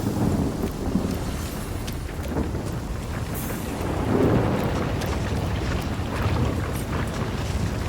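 Heavy rain pours continuously in a fantasy role-playing game world, with low rumbling thunder and gusting wind beneath a dense, steady hiss and no speech.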